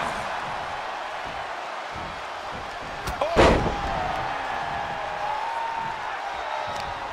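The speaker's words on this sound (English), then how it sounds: "then slamming their face down." A wrestler slams an opponent's face down during an NXT match between Madcap Moss and Grayson Waller, making one sharp, loud impact over steady arena crowd noise, which swells briefly afterward.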